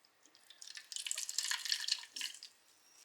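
Water dripping and trickling from grated salted radish squeezed by hand, a quiet close patter of droplets that builds, holds and fades out.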